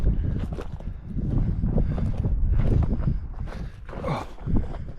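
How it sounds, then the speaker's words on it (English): Wind blowing outdoors on a high exposed spot in Newfoundland, a loud continuous rumbling buffet across the microphone with gusty surges throughout. "Nice bit of wind up here too."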